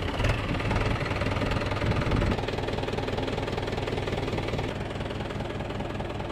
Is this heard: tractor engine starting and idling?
yes